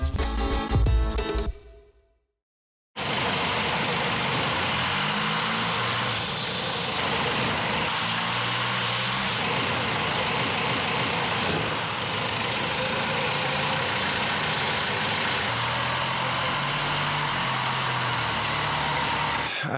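A Cummins diesel engine runs with a loud, rough, steady roar and a hissing top end, after a brief cutout to near silence early on, then continuing unbroken with shifting tone.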